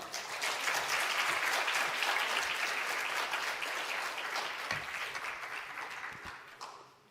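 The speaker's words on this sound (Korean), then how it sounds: "우리 목사님 나오실 때 박수로 환영하겠습니다." A church congregation at a Sunday afternoon service applauds to welcome the pastor, a dense, steady wash of many hands clapping that fills the room for several seconds before tapering off at the end.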